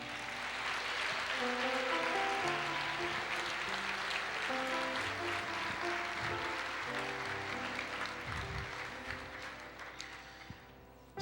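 A church congregation claps and cheers together in a large hall, sustained dense applause that gradually thins out and fades toward the end.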